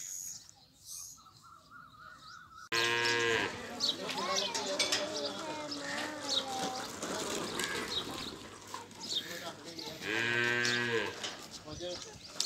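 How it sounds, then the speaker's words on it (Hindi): Cows and goats at a rural village home in Punjab, Pakistan, with loud nearby lowing moos repeating over livestock noise and someone talking. "ये इनके जानवर हैं, गायें और बकरियां"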